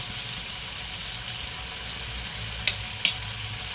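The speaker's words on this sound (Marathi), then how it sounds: "आता चांगलं परतून घेऊया" Turmeric, coriander powder and homemade masala sizzle steadily in a hot pan for chicken kofta, a constant frying hiss broken by two sharp clicks near the end.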